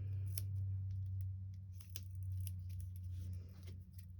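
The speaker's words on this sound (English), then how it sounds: "And then I just snip, snip, snip." Scissors snip paper for a mixed media craft project, making several quick, close cuts in a row over a steady low background hum.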